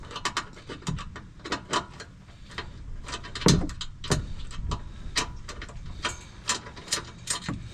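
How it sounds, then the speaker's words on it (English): Ratchet wrench loosening T45 bolts from an underbody panel on a 2024 VW Jetta S, a run of close, crisp clicking bursts with a few heavier knocks, no talking. "We're going to remove the 3 T45 bolts that are in the center of this panel."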